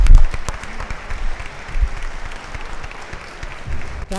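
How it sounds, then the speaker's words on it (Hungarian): Studio audience applause closing a Hungarian game show final, a dense loud clatter of clapping hands that continues steadily throughout without talk. "Taps!"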